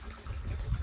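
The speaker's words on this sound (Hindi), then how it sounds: "तो हमने पानी डाल दिया।" Water is poured over wheat seeds in a container, a brief rushing, gushing wash of liquid heard close and alone.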